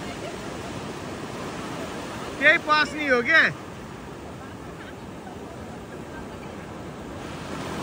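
Surf at Coco Beach washes in as a steady broadband roar that fills the whole clip, with a person speaking briefly over it near the middle.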